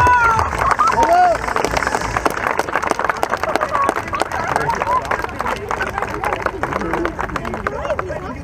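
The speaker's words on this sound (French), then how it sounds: "Et Désiré vient me réclamer un tonnerre d'applaudissements" A crowd applauds a stunt driver at an outdoor stunt show in Le Guilvinec, where cars drive on two wheels; steady clapping and cheering continue throughout, with a few shouts rising over the din.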